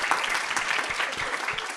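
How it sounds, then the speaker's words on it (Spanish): A short burst of audience clapping at the close of a nanomedicine course session, brief and moderately loud. "le regalamos otro aplauso a Tessy"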